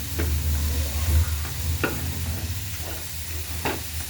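Small mussels stir-fry in a pan with a steady sizzle, a spatula scraping and clacking against the metal every second or so, close and loud, with no voices.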